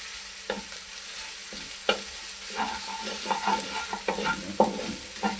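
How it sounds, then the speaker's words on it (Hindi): Garlic fries lightly in a pan for chili sauce, giving a gentle sizzle punctuated by repeated spoon stirs and taps against the pan, close and moderately quiet. "लहसुन को हम हल्का सा फ्राई करके डालेंगे तो कच्चापन नहीं आएगा इतना लहसुन का"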